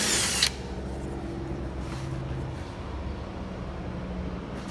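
A power tool with a 10mm socket spins out a front bumper bolt on a Honda Odyssey, a short close burst at the start followed by a steady lower whine and hum.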